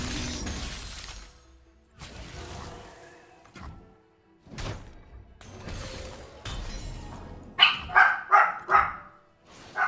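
A dog barks in a short burst of four or five sharp, close barks near the end, after quieter room noise and faint background sounds.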